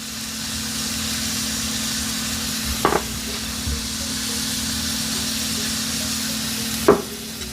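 Chicken pieces seasoned with salt and pepper frying in a hot pan, a steady close sizzle with a low hum underneath and a couple of brief clatters as a piece is flipped.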